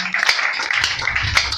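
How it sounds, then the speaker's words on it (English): A church congregation applauds at a prayer ministry gathering, a dense patter of many hands clapping steadily for a couple of seconds with no voices over it. "If you want to clap, clap for Jesus Christ."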